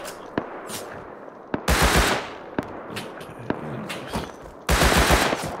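Rapid automatic gunfire in the survival game Rust, with two loud sustained bursts between scattered single shots and shorter volleys, some near and some more distant.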